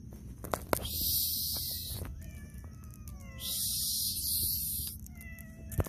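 A cat meows outdoors with several drawn-out, wavering meows at moderate distance, separated by quieter stretches holding faint scrapes and a couple of sharp taps.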